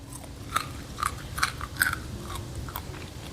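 Crispy fried chicken cartilage snack being bitten and chewed up close, several sharp crunches in an uneven rhythm over quiet background.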